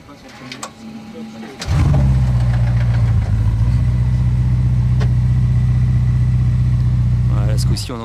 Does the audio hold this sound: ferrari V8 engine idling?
yes